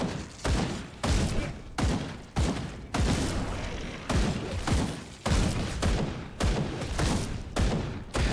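Gunfire in the game Grim Dawn, a rapid series of loud, punchy shots in quick bursts roughly every half second, each with a short decaying tail, sustained for over eight seconds without talk.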